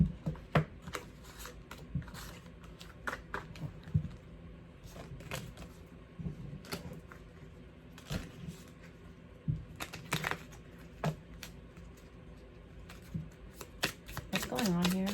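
Island Time Wellness oracle cards being shuffled by hand, a steady run of crisp riffling snaps and soft flutters close up, with talk over parts of it.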